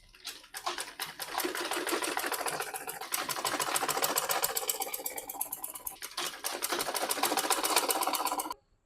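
Sewing machine stitching the side seams of a skirt, running steadily and loudly for about eight seconds with a brief pause midway before stopping abruptly.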